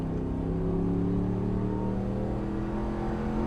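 Ram 1500 pickup fitted with a Borla Atak T304 stainless steel exhaust, revving in a steady, loud low rumble that holds throughout without talk.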